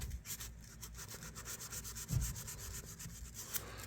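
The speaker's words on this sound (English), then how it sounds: "You can just take a little sandpaper there and clean that right off." Fine 600-grit sandpaper rubbed against the blade of a classic Camco 229 electrician's knife, a steady close scratchy rasping that continues throughout with slight surges in rhythm and no voices.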